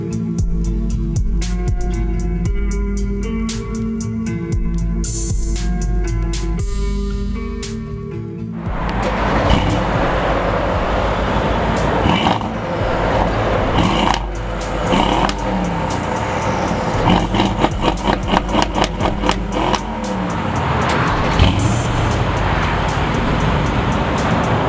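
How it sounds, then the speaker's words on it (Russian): A Mercedes GLE 63 S with an advanced exhaust system gives a loud, full engine and exhaust roar that runs continuously after about eight seconds of music. There is no talking. "Как вы могли догадаться по сочности звучания этих двух красавцев, здесь также продвинутая выхлопная система."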